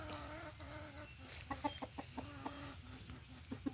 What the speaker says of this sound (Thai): มีไก่